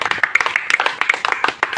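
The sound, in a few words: loud clapping by meeting audience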